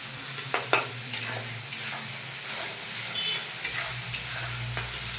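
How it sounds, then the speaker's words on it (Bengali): Spice paste of chilli, ginger, garlic and cumin fries with melted tomatoes in a pan, a steady soft sizzle broken by sharp scrapes and knocks of a spoon stirring, close and alone. "টমেটো গলে গেছে আর আমি এখন দিয়ে দেব আগে থেকে পেস্ট করে রাখা মশলা।"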